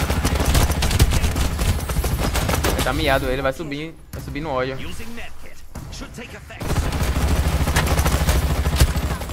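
Rapid bursts of gunfire from the shooter video game Farlight 84, loud and dense at the start and end with a quieter gap between, while players talk over the shots.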